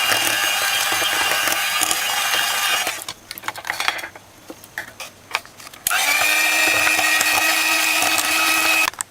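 An electric mixer blends Christmas cake batter, its motor giving a loud, steady whirring whine in two bursts with a quieter pause of clinks and knocks between them.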